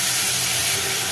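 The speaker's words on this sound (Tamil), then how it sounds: "இப்போ பொடியாக நறுக்குன வாழைத்தண்டை போட்டுக்கலாம்" Chopped banana stem sizzles with onion in a pan, giving a steady, loud, broadband hiss of frying that holds evenly throughout with no talking.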